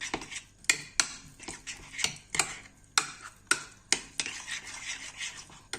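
A spoon stirs maca powder into a bowl of breakfast oats, scraping and clinking against the dish in quick irregular strokes with sharp taps on the rim, close up and without speech.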